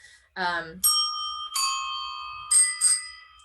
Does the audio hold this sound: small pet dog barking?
no